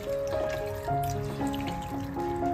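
Chhana made with vinegar is rinsed in clean water: a quiet, continuous trickle and pour with light dripping and splashing, close by and steady throughout, no talking.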